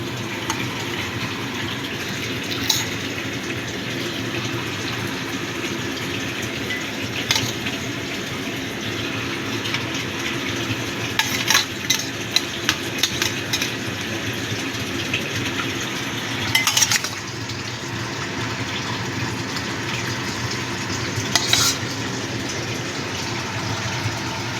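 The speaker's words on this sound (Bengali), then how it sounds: "এবার আমি মাছগুলো এক এক করে দিয়ে দেবো।" Katla fish curry boils steadily in a pot with a constant bubbling, rushing wash of liquid, broken now and then by soft splashes and clinks as fish pieces go in one at a time, close and continuous.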